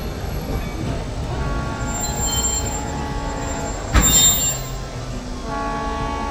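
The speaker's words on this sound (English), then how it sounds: "We're gonna be squeaking it in again." The Magic Kingdom railroad train rolls into the station with metal wheels squealing in high thin tones over a rumbling undercarriage, a sharp louder squeal partway through, no talk.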